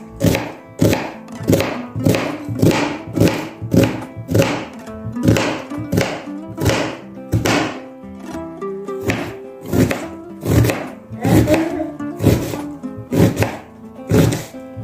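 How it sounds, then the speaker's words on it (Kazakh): Onions are finely chopped with a knife on a board for samsa filling. Steady, evenly spaced thunks sound close and loud, about two per second, over soft background music. "Енді пиязымызды ұсақтап турап шығамыз."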